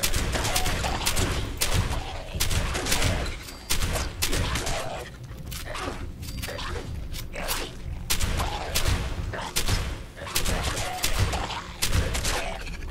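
Rapid bursts of shotgun fire in the video game Fallout 76 at the Whitespring Country Club, loud repeated blasts in quick succession with brief gaps, continuing throughout.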